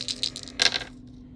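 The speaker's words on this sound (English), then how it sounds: "I'm going to keep my 2 4s, and I'm going to re-roll these 4 dice." Four dice in a game of Farkle clatter onto a hard surface, a quick burst of bright rattling clicks that rises, peaks and stops within about a second, loud and close.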